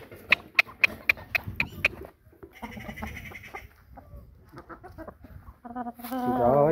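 A rooster clucks in a quick run of sharp, evenly spaced notes, then gives softer scattered clucks and rustling, ending with a louder drawn-out call.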